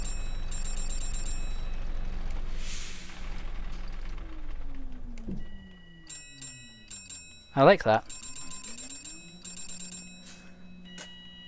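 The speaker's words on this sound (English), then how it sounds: "Yes, I'm just pressing the bell a lot." Bus stop bell on a StreetLite WF bus in OMSI 2, a pair of bright electronic dings pressed repeatedly, with a steady engine hum and a short phrase of speech heard under the chimes.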